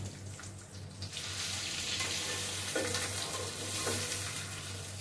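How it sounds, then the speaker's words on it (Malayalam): Steady hiss and crackle of chicken pieces frying in hot oil for biryani, loud and continuous, with occasional utensil scrapes. "ഒരു മുക്കാൽ വേവ് വരെ നമുക്ക് വറക്കണം"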